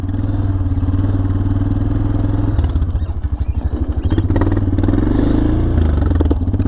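A Honda Foreman 400 ATV pulls an 800-pound trailer off road in third gear, its engine a loud, steady rumbling drone with a brief stuttering clatter midway.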